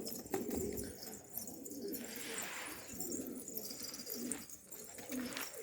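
Yellow Hungarian pigeons coo softly nearby, with repeated low rolling coos against a quiet background and faint flutters, no voices.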